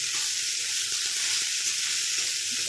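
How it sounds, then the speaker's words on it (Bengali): Beans, carrots, capsicum and cabbage with Maggi noodles fry on high heat in a pan, a loud, dense, continuous sizzle heard up close with no talk. "সুন্দর গন্ধ হয়েছে সবটাই কিন্তু হাই হিটে ভাজতে হবে"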